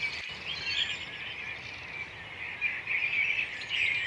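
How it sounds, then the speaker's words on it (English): A large group of birds singing outdoors, overlapping chirps and trills forming a continuous high chorus at moderate distance, fairly faint, with no voices. "This sound landscape of singing birds is truly an example of improvised music."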